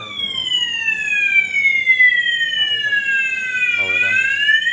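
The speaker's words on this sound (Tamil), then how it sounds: "இது அலாம் ஆக்டிவேட் ஆகிடுச்சு" A fire alarm sounds during a fire alarm test, giving a loud, close electronic siren that sweeps slowly in pitch, with a brief voice underneath.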